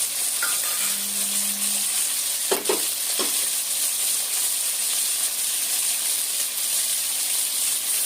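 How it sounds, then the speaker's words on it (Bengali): Vegetables and long beans frying in hot oil in a wok give a steady, close sizzle that runs throughout, broken by a couple of short stirring clatters near the start. "পর্যায়ক্রমে সবজিগুলো একটু ভেজে তুলে নেব।"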